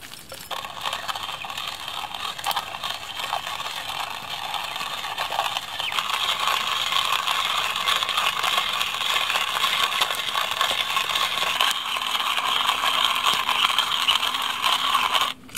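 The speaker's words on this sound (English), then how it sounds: "Grinding your own coffee." Whole Costa Rican coffee beans being ground in a hand grinder outdoors, a continuous gritty crunching and rasping that runs steadily throughout, close and moderately loud with no talk.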